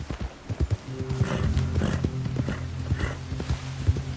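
Hooves of a ridden horse in a video game clip-clop in a quick, uneven rhythm close by, while the horse whinnies briefly through the middle.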